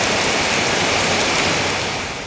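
Heavy rain pours down steadily in a loud, dense hiss over flooded rice fields, unbroken for the whole stretch and easing off slightly at the very end.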